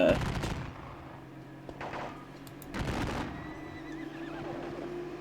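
Gunfire and neighing horses in a war strategy video game set at the Battle of Bautzen, with several bursts of shots and whinnies over a steady battle din, moderately loud.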